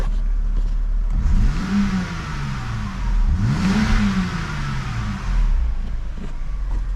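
A car engine idles and revs after a used junkyard coil pack was fitted while a misfire persisted, with two rising-and-falling rev sweeps over a steady close idle rumble and no talking.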